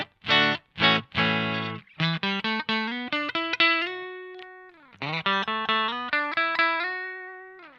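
Fender Stratocaster played on the neck pickup into a Friedman amp's clean channel: a few quick strums, then a melodic run of ringing single notes and chords, close with no voices.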